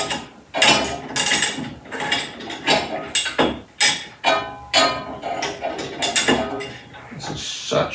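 A bench vise holding wood is loosened with a series of close ratcheting clicks and metallic clanks, coming in uneven bursts with short gaps between turns.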